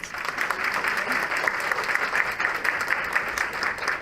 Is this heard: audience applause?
yes